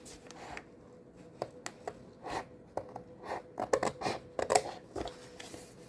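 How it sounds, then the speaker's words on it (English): Scissors snipping through patterned paper around journal covers in short, irregular crisp cuts, close and fairly quiet, with brief pauses between snips. "we're going to get our scissors, and we're just going to go around the front and the back covers"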